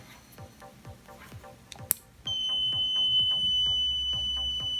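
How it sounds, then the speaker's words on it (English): Soft clicks tick in a regular rhythm, then a sharp high continuous buzzer tone from an analog multimeter's continuity test switches on and holds steady to the end. "There is only buzzer sound, no LED."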